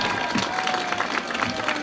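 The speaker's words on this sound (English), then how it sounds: "Let's have a nice round of applause for these lovely ladies and their escorts." Crowd applause in a high school football stadium during homecoming court introductions, a steady wash of clapping and cheering from many people, fairly distant and continuous throughout.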